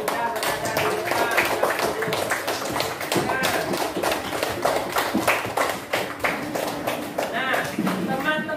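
A school audience claps for students dressed in traditional Indonesian costume, the claps dense and steady throughout at close range, with voices mixed in.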